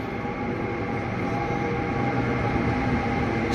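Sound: green passenger train arriving

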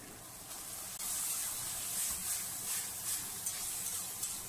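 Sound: diced chicken thigh added to a hot wok over high heat

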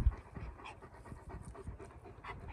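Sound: dogs panting

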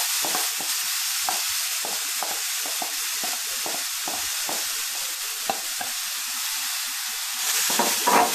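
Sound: grated carrots frying and being stirred in a pan for halwa

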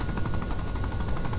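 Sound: helicopter landing in video game ARMA 3

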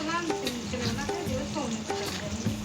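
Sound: frying onion with papaya and potato

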